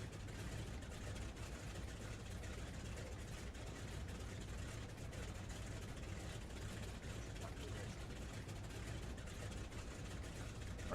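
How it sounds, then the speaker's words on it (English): A de Havilland DHC-2 Beaver's engine idles in Microsoft Flight Simulator 2020, a steady low rumble heard from outside the plane that holds an even level throughout, with no talking. "Let the engine run for a minute."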